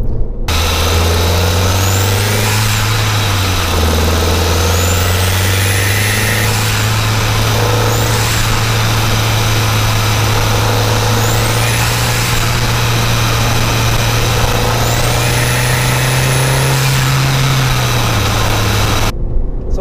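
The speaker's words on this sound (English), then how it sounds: "we've also got a lot of huffing and puffing coming from that massive KO4 turbo" A modified Audi TT quattro Sport 240 four-cylinder engine with a large KO4 turbo runs steadily and loudly, with a repeated rising whoosh and whistle from the turbo over the throaty drone.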